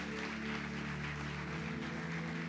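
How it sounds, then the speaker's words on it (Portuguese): A church congregation applauds in a steady wash of clapping that runs under sustained music throughout, with no speech. "Você pode aplaudir a ele por isso?"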